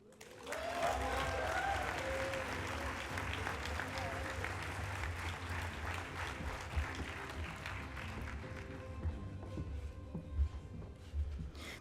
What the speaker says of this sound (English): Please join me in another big round of applause for Tacoma Musical Playhouse.